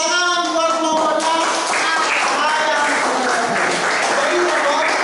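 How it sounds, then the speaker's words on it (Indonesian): A classroom of students applauds a robot during a coding and artificial intelligence lesson, the clapping dense and steady for about five seconds over a bright, noisy room tone, with a voice speaking over it early on. "Tepuk tangan buat robotnya"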